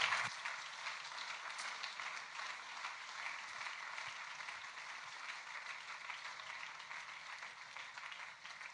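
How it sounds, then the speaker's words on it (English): Audience applause at a livestreamed evening talk at the German Sport University Cologne, a steady even patter of clapping sustained for the whole stretch at moderate, slightly distant level with no talk over it. "Can we have a round of applause for Michael?"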